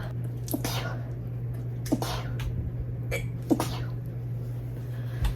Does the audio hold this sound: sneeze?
yes